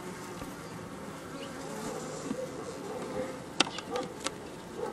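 Honey bees buzz continuously around a populated beehive during feeding, a dense close hum with a few individual insects flying past loudly near the end.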